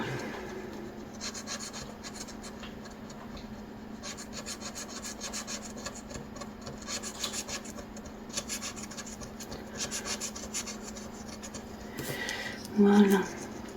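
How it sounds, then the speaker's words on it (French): Scratching the coating off a scratch-card lottery ticket, a steady dry rubbing rasp that runs continuously close to the microphone, with a brief louder burst near the end. "On va déjà gratter les numéros."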